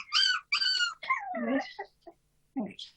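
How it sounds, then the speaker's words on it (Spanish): A small dog whimpers and yips in a quick series of high, whiny cries, fairly close and alone, in a quiet room during a committee hearing. "¿Qué pasa, perrito?"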